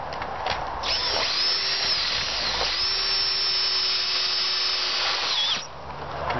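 A power drill whines steadily at high pitch for several seconds, pausing briefly once, as it drives self-tapping screws into metal while erecting a 15ft 6in wide tunnel, loud and close.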